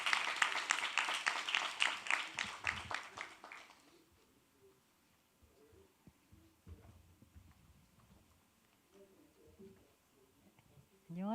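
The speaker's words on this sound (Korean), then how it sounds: "여러분 큰 박수로 무대 위로 모시겠습니다." Audience applause at the Jeju Forum education session, a dense burst of clapping for about four seconds that then dies away to a quiet room with scattered faint noises.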